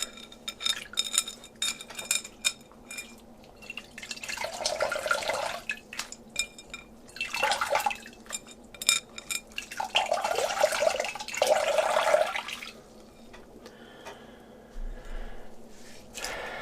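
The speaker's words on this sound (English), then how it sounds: "I'm just going to do a light wash. I have some water here." Warm water is splashed onto a face during a light wash, coming in several separate wet bursts close up with drips and quiet pauses between them, no talking.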